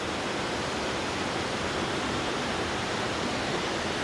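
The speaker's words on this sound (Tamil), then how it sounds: "அங்கே ஒரு ஃபால்ஸ் ஊற்றிக்கிட்டு இருக்கு பாருங்கள்." Broad, steady rushing roar of a waterfall pouring down, heard from a house balcony at some distance, continuous and even throughout with no voices.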